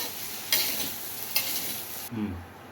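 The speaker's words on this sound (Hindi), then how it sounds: "थोड़ा फ्राई करेंगे ताकि इनमें सब्जियों को कच्चापन निकल जाए और इनमें थोड़ा सा क्रंचीनेस आ जाए।" Mixed vegetables fry in a pan with a steady close sizzle and stirring scrapes, two sharper bursts standing out before the hiss drops away near the end, leaving a low rumble; no talking.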